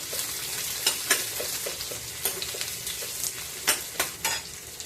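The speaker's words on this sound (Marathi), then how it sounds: "कांदा पारदर्शक होईपर्यंत परतायचा आहे" Onion sautés in a pan over a low flame, with a soft, steady sizzle broken by repeated scraping and stirring strokes, close and unaccompanied by speech.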